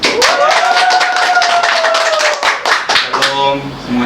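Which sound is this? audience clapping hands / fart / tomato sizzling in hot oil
audience clapping hands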